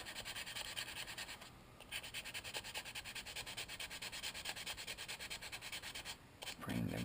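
Fine sandpaper rubs rhythmically over a small model T-34 tank hull in close, repeated scratchy strokes, with a couple of brief pauses.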